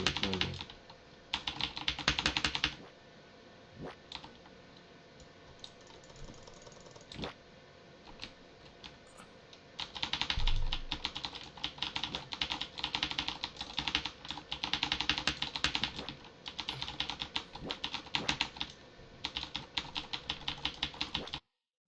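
Rapid computer keyboard typing clatters in dense, uneven bursts with short pauses between, fairly close and quiet overall, with no voices.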